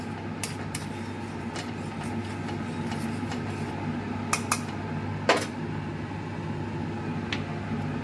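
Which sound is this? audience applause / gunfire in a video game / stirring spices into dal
stirring spices into dal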